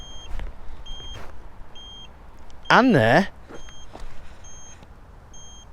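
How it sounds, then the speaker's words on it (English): An iScooter i10 Plus electric scooter's turn indicator gives short electronic beeps that repeat at a steady, regular pace, briefly interrupted by a loud warbling tone and someone speaking. "Not only is it beeping, it's indicating right there"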